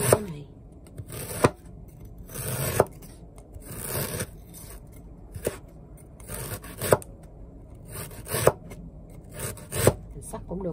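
Knife slicing fresh ginger into thin slices on a board, with repeated close scraping cuts in an irregular rhythm over steady background noise.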